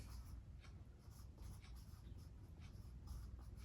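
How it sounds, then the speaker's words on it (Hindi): A pen writes steadily across paper at a math lesson board or desk, a soft continuous scratching with brief strokes, close and fairly quiet, with no talking. "तो मैं यहाँ पे लिख देता हूँ"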